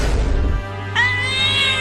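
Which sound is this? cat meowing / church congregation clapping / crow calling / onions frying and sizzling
cat meowing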